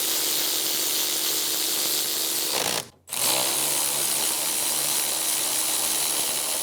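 A power tool, likely an impact gun, snugs down the rear wheel bearing bolts on an Infiniti G35, whirring loudly and steadily with one brief pause midway before resuming.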